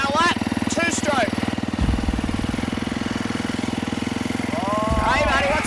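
Two-stroke dirt bike engine runs loud and close with a steady buzzing idle that rises in revs at the start and again at the end.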